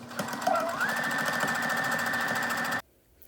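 A sewing machine stitches pinned pieces of a baby quilt, a steady close mechanical whir with rapid needle chatter that runs for almost three seconds, then stops abruptly.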